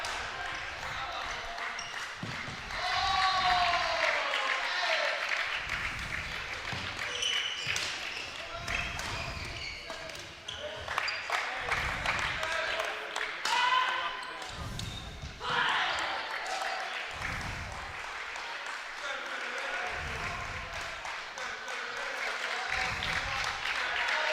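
Nottingham fans in the crowd at a university badminton championship final chant together, with rhythmic thumping beats, claps and bursts of applause in a large indoor hall while a voice talks over the noise.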